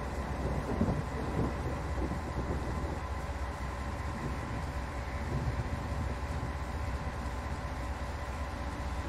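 A simulated train rolls along in Train Sim World 3, a steady broadband rumble of wheels and running gear that holds at a constant loud level from start to finish, with no voices.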